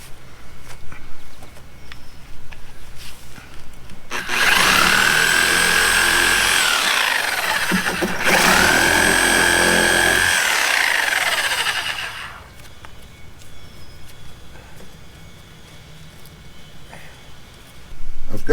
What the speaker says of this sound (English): So we need to cut these nails off.